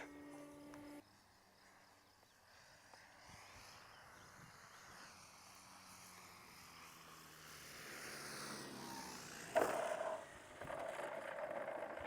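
An Extra 300 EXP 91-inch electric aerobatic RC plane from Extreme Flight comes in to land at a model air club, its propeller whine rising and falling at a distance before a louder close pass and touchdown noise.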